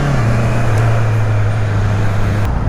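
A Honda CB650R engine is held at high revs near the limiter, producing a loud, sustained, close-up drone whose pitch sags slightly before steadying.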